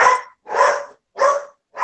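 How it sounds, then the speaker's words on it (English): A dog barks loudly and close by, four sharp barks evenly spaced about half a second apart, with no voices over them. "a dog now barking in the background"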